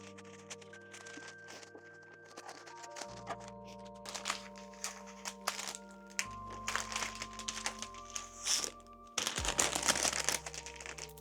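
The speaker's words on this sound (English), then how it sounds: "I wrap it in cellophane as well so that it looks even more like it's a proper bouquet" Cellophane crinkling and crackling around a custom bouquet, irregular close rustles and crunches building louder toward the end, with steady tonal music beneath and no talk.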